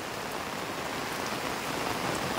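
Steady heavy rain pours down in a Philippine province, flooding around a house, in a dense, continuous hiss, drumming on surfaces close by with no pauses.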